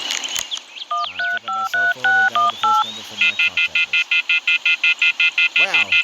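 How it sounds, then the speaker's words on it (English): Telephone keypad dialing tones in the visual novel game Everlasting Summer: a quick run of irregular beeps, then a steady, evenly paced series of about a dozen identical tones, loud and clear with no talking. "I tried to make a phone call"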